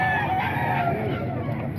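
A one-year-old white Kelso rooster crows at a poultry market, a sustained, fairly loud call over steady background noise.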